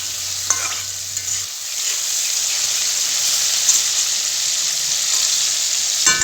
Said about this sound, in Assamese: এতিয়া তেল গৰম হৈ যোৱাৰ পিছত মই বিলাহীখিনি এনেকৈ ধুনীয়াকৈ ইয়াত কেৰাহীখনত দি দিলোঁ আৰু এতিয়া ভালকৈ লৰাই দিম